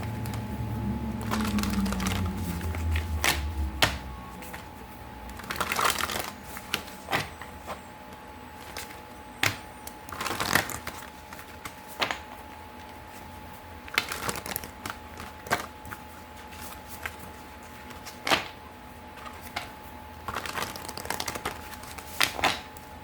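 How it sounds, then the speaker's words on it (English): Tarot cards being shuffled up close in repeated bursts of riffling and tapping, separated by quieter pauses, with no talking. "So let's shuffle the cards."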